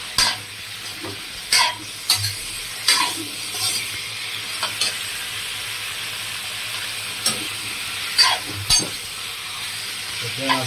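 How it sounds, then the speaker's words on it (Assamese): Swamp eel pieces fry in a pan with a soft, steady sizzle, broken by occasional clanks and scrapes of a spatula stirring them, close by and without talk. "কুচিয়া মাছখিনি ইয়াত দি দিলোঁ"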